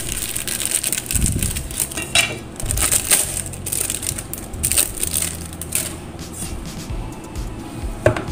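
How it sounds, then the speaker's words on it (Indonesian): Knife slicing tempeh on a cutting board while cooking, irregular crisp crunching cuts and light knocks against the board, close and fairly loud, with no talking. "Ini tempenya diiris sesuai selera ya."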